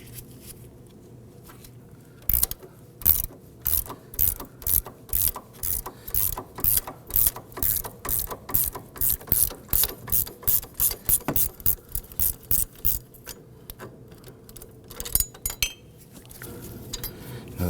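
A ratchet driving a number 5 Allen key on a front sway bar link of a 2008-2011 Ford Focus, steady rhythmic clicking strokes, close and loud, in a series of repeated bursts with no talking.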